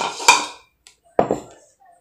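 Ground peanut chutney being moved into a bowl, two sharp metal clatters of utensil against bowl with short ringing tails, close and separated by quiet.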